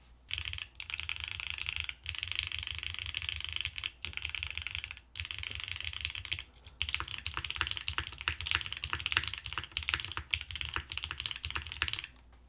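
Mechanical keyboard with granite switches on a plate with aluminum pieces top and bottom, typed on steadily: dense, crisp clacking in quick bursts with brief pauses, close and alone.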